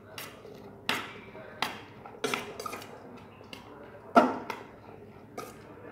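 Kachumbari salad with chopped coriander is mixed in a bowl, a spoon striking and scraping the bowl in sharp, irregular clinks spaced about a second apart, with faint talk beneath.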